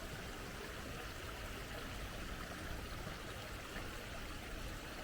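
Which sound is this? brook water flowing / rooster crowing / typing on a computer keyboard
brook water flowing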